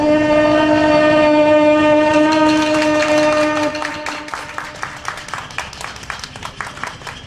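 A performer's voice imitates a KTX high-speed train pulling away on a folk comedy stage: a loud, sustained horn-like tone gives way to a quickening clatter of rhythmic clicks that thins out as it goes.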